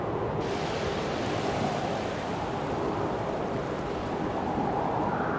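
Steady rush of ocean surf washing onto a beach, a continuous broadband roar with slight swells and some wind, no voices.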